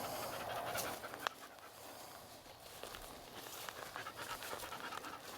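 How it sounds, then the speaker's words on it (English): A neighbour's dog pants rapidly and rhythmically at moderate distance outdoors on a rural property, with soft footsteps shuffling through the quiet background. "There's my neighbor's dumb dog."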